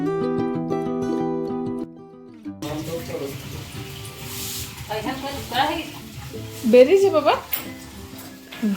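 Bitter gourd curry sizzles in a pan as it is stirred, with scraping and clattering over a steady hiss, after a short stretch of sustained musical tones at the start.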